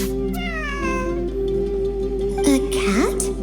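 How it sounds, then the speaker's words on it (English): A cat in Genshin Impact meows in a series of rising and falling calls, loud and close, layered over a sustained musical drone and background score with a brief shift near the end. "I'm not hearing things. It really is a cat."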